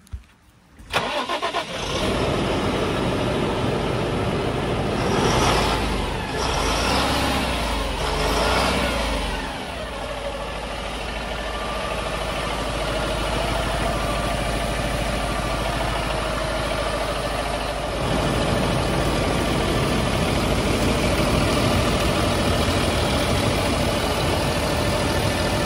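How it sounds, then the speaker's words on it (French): Fendt One 720 Vario tractor with a Deutz six-cylinder 190 hp engine cranks and starts, then settles into a deep, steady running rumble with brief rev swells early on, close and continuous for about twenty-five seconds. "Comme on l'entend qu'il rugit tranquillement, donc c'est un moteur Deutz 6 cylindres de 190 chevaux."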